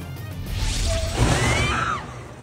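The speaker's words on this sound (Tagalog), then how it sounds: "Pumutok ang kable ng kuryente sa lakas ng hangin" A power cable bursts at a street corner in Quezon City as typhoon winds batter Metro Manila, a sudden loud crash and whooshing burst over roaring wind, with a brief rising electrical whine.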